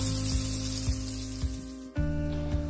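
Boiled eggs frying in masala powder and oil over a low flame on a stove, giving a steady close sizzle with a few soft clicks and one brief dip partway through.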